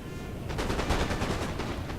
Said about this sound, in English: Now I open fire at this point